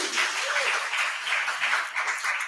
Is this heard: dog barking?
no